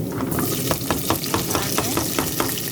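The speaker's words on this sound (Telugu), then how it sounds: "అలాగే రెండు రమ్మలు కరివేపాకు ఇలా దోరగా వేగేంత వరకు వేగించుకున్నాం" Garlic, chili, onions and curry leaves frying in oil in a pan, a steady close sizzle with regular stirring scrapes about every half second.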